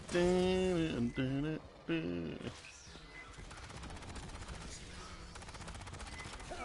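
A big gun firing in the sci-fi shooter Aliens: Fireteam Elite: after a brief stretch of voice, a rapid, rattling burst of automatic fire continues steadily at moderate volume.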